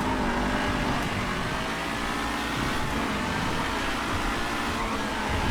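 A race car in GTA FiveM drives with a steady, loud, broadband engine roar. The drone holds an even level throughout, with no pauses or clear shifts.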